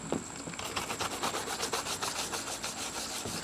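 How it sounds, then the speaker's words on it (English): Quick, rhythmic back-and-forth scrubbing strokes on duck decoys with soap and water rasp up close, steady and continuous, with no one speaking. "I just give them a quick scrub."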